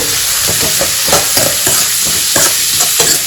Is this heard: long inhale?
no